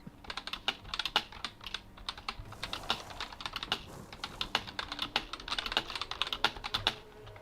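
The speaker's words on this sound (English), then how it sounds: "So everyone listen to a mechanical keyboard." Rapid, crisp clacking of keys on a mechanical keyboard, irregular bursts of keystrokes close up and steady throughout, with no speech.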